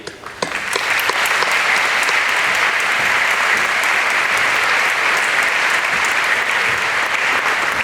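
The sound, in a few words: audience applause at graduation ceremony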